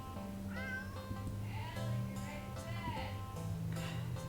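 A standard black cat in a video game meows several times, with drawn-out rising and falling cries close and clear over a steady game music drone.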